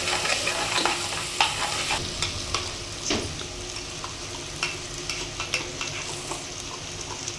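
Mutton fries in a pressure cooker with a steady close sizzle, broken by scattered stirring scrapes and clinks of a utensil against the pot.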